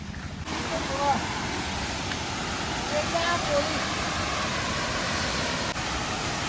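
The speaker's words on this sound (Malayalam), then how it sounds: "എനിക്ക് തോന്നണേ ഇത് തന്നെയാണ് വെള്ളച്ചാട്ടം" Steady roaring rush of falling water from a waterfall at a hilltop spot in Vattavada near Munnar, a dense continuous wash close by with a faint voice briefly underneath.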